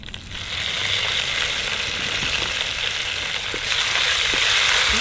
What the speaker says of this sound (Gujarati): આ જે તડકો છે, જે વઘાર છે,